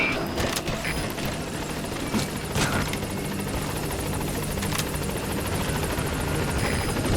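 Support helicopter from Metal Gear Solid 5 arriving at a landing zone, rotor blades chopping steadily and loudly with a continuous engine roar, close and sustained throughout.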